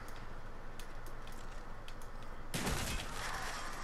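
Gunfire from behind in a Black Ops multiplayer match on the Summit map: steady game noise with faint ticks, then a sudden loud burst of shots near the end.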